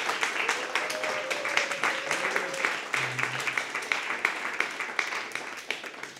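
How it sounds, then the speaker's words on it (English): An audience at a space-themed innovation competition event in Berlin applauds in a steady round of clapping, moderately loud and sustained, with faint tonal hum underneath. "give yourself a big round of applause."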